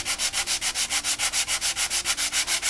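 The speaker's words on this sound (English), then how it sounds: "When I'm done block sanding" A sanding block rubbing back and forth over a repaired Benelli motorcycle fairing, a fast, even rhythm of about sixteen rasping strokes, close up, with no talking.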